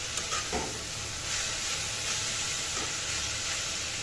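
Drumstick (moringa) leaves frying in a pan and being stirred, a steady broadband sizzle with faint scraping strokes, continuous and fairly quiet throughout, no talk.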